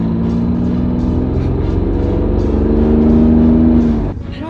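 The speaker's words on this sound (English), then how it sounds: "Next up is the first gen NSX. Rating on the way she sounds" A first generation Acura NSX engine revs close and loud, a sustained rising drone whose pitch climbs steadily over a few seconds before easing off abruptly near the end.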